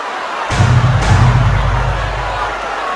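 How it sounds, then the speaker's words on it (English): Crowd at an MMA fight reacting to a takedown, a sudden loud swell of cheering and shouting that rises sharply, then holds and slowly fades, with voices mixed into the roar. "Great reaction from the crowd."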